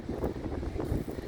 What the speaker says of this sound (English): You can see it's windy. I'm sure you can hear it on the video